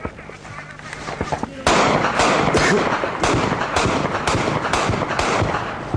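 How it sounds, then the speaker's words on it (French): A 20 mm cannon firing in combat at Tagab, Afghanistan, a burst of sharp loud reports in quick irregular succession after a quieter start, with someone talking over the shots. "Ça c'est précis le canon de 20, ça fait pas de dommages collatéraux"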